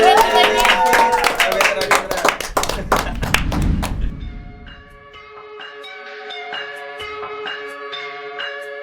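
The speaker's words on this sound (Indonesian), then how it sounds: "tepuk tangan buat kabinet kita ini" Applause for a newly announced cabinet at a talk-show taping: a burst of close, dense clapping and thumps from a small crowd fades out after about four seconds, leaving soft ringing bell-like music tones.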